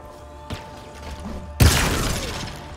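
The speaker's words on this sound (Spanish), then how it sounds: "Eso sí fue una hermosa explosión." A sudden loud blast erupts partway through a Halo Infinite campaign mission, a booming crash that decays into a rumbling tail after quieter clicks and mechanical sounds.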